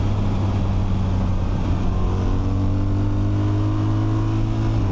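A 2026 BMW R 1300 RT motorcycle engine rumbling steadily up close, its pitch climbing smoothly as the rider pulls away and shifts gears with the foot shifter in manual mode.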